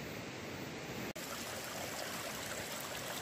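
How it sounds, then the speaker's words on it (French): A river and waterfall in a gorge rush steadily with dense, even white-noise roar, close and loud throughout, with one split-second dropout early on. "Il y a la cascade aussi qui fait du bruit."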